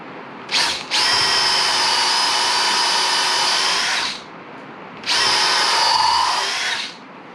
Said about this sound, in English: So I want to drill through